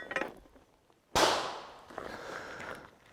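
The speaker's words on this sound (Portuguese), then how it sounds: "eu vou da mesma forma realizar o disparo" A handgun fired one-handed at a target during shooting practice gives a single loud, sharp crack that rings out and decays over about a second, with faint handling noises before it and a lingering tail after.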